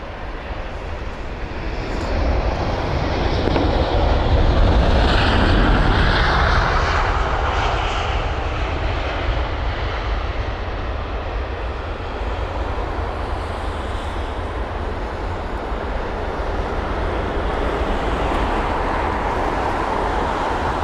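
An Airbus A350-1000 takes off from Heathrow runway 27R, its jet engines building into a loud, broad roar that peaks and then holds as a steady distant rumble while it climbs away; no talking.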